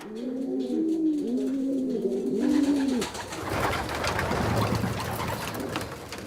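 Close racing pigeons coo in repeated rolling phrases for about three seconds, then the sound gives way to a louder, busier background of flapping and bustle.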